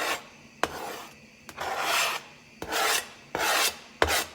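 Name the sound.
knife scraping chopped thyme and oregano off a cutting board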